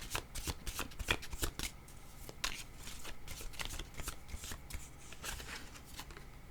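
Oracle cards are shuffled by hand in quick, crisp riffles and slaps, a brisk, irregular patter heard up close and fairly quiet, with no talking.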